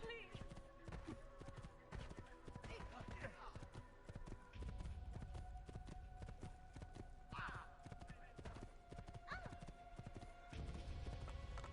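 Horse hooves clip-clop steadily in the video game Assassin's Creed II, a quick rhythmic trotting under game ambience and a speaking voice, with a whinny or crowd noise briefly rising.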